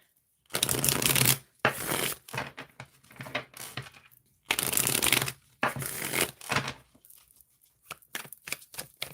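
Tarot cards from the Astro Ascension deck are shuffled in several bursts of quick riffling and slapping, with short pauses between, close and fairly quiet, with no talking.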